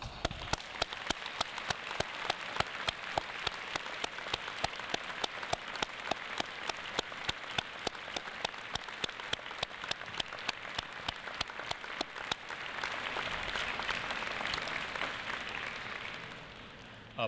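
University convocation audience in a large hall applauding graduates' supporters, a steady rhythmic clapping that merges into a wash of dense applause and then tapers off.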